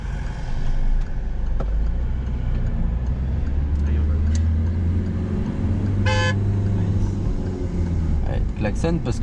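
Inside a moving driving-school car during a driving lesson, engine rumble runs throughout as a short honk of a car horn sounds, followed by a couple of brief toots near the end.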